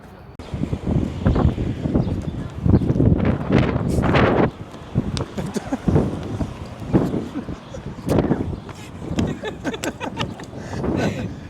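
Gusty wind buffets the microphone in rough, uneven bursts outdoors in Madrid, with a person talking intermittently underneath.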